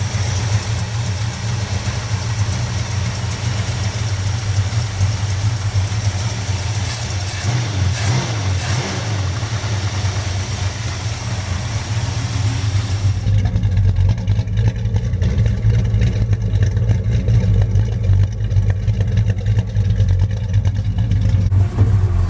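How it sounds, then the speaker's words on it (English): A warmed-up 1979 Dodge Magnum 383 big block V8 idles at about 800 RPM with a steady, deep, loud rumble. The tone shifts partway through, and the engine continues alone with no talking. "Fully warmed up now. Idles at about, I'd say about 22 pounds at about 800 RPMs."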